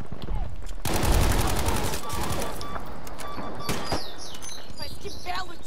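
Gunfire in Battlefield 5 multiplayer Domination mode: a heavy, continuous volley of rapid shots with explosions and scattered impacts under someone talking.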